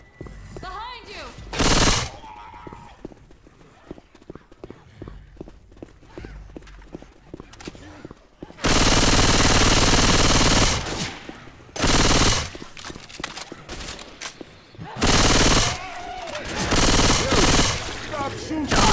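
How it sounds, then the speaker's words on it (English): Heavy gunfire in Left 4 Dead 2: loud rapid bursts of automatic fire in several long volleys, with scattered single shots and hurried voices shouting between them. "Stop shooting!"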